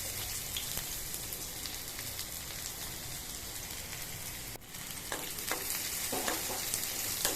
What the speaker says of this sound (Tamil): ஆயில் ஆட் பண்ணி ஆனியன் ஆட் பண்ணியிருக்கேன்